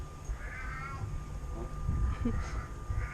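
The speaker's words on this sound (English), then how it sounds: "That's a kid or an animal. Oh no, it's a cat." A cat meows on a quiet residential street in Yogyakarta, a couple of short cries mid-clip amid outdoor background noise and a faint steady tone.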